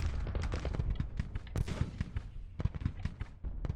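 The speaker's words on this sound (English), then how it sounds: "I think that the cannons are firing into them" Cannon and musket fire from a large Civil War battle in the Grand Tactician strategy game, a dense, continuous rumble of overlapping booms and crackling volleys with sharper blasts standing out near the middle and toward the end.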